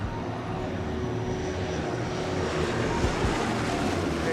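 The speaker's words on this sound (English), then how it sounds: "There comes a Hurricane now." A Hawker Hurricane propeller fighter flies past, its engine a steady, broad roar that holds loud throughout and swells slightly toward the end, with no voices over it.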